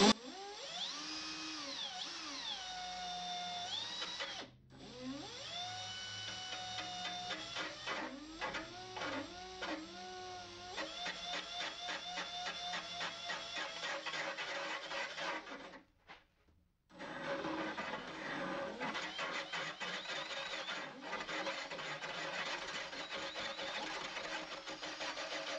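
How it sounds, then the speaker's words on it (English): A circle cutter spinning on a handheld drill and biting into recycled toilet paper material, a loud whirring, chattering grind with pitch swoops as the speed changes, running for about fifteen seconds, stopping briefly, then resuming. "trying to not take a finger off with this here circle cutter"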